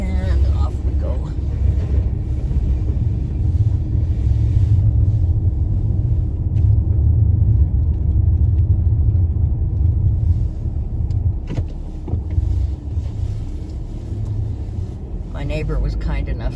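A car driving over a snowy road gives a loud, steady low engine and tyre rumble that dips briefly near the end, with a person talking over parts of it.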